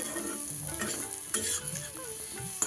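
Potatoes stirred with salt and turmeric in a pan, a soft sizzle under brief scraping and clattering strokes of a spoon, quiet and close, with no talking.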